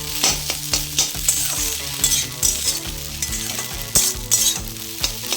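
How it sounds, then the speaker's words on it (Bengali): Egg stirred into instant noodles and fried potatoes in a hot pan, with a steady loud sizzle and repeated scraping stir strokes over a musical background. "এবার ডিম দিয়ে আমি নাড়াবো"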